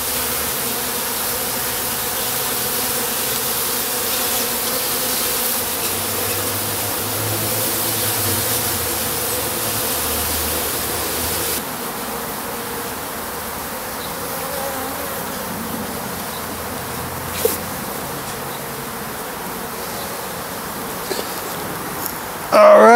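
Honeybees inside a top bar beehive during a one-week inspection, a dense, loud, continuous buzzing drone heard close up, with a few faint knocks near the end.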